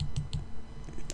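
A computer mouse clicking at a desk: a few light, crisp clicks close by, two in quick succession and another shortly after, with no voices.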